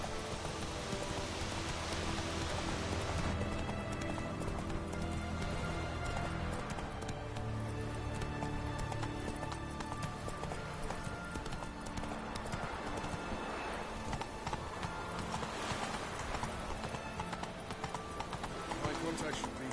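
A horse gallops in a PS4 video game with rhythmic hoofbeat clip-clops, alongside steady rain and game music, while a voice talks over the action.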